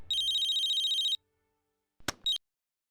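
A telephone rings for an incoming international call with a bright electronic ringtone warbling steadily for about a second. After a pause come two short electronic clicks or beeps, and no one speaks.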